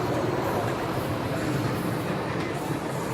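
Storm Chaser roller coaster train at Kentucky Kingdom, an empty train running fast, heard as a steady loud rumble and roar of rolling wheels on track, continuous throughout with no voices.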